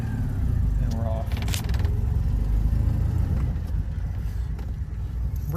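A warmed-up car engine idles and then revs as the car pulls away in first gear, steady motor rumble throughout with faint background noise.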